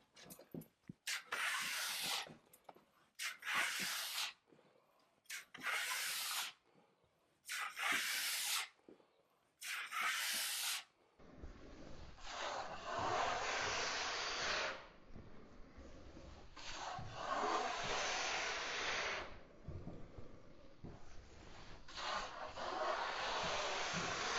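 A drywall knife spreading joint compound over drywall screw heads, heard as close scraping strokes: short separate swipes at first, then longer, smoother continuous passes, with no talking.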